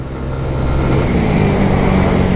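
Yamaha Aerox 210cc scooter with a remapped ECU and upgraded air filter revving on the throttle, a loud, dense engine roar building steadily and holding close by.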